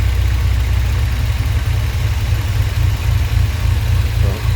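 A Toyota 22RE engine idles steadily close by, a loud, even low rumble with a constant mid-range hum and no voices over it.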